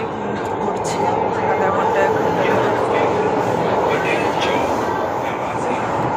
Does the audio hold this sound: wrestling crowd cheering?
no